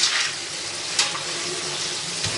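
Tap water splashing over dry beans as they are rinsed in a kitchen sink, a steady hissing spray with a few brief sloshes, close and moderately quiet.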